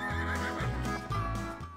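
Free-roaming horses in Sagada neigh in two loud, close whinnies, each a rising-and-falling call lasting about half a second, with some clip-clop of hooves between them.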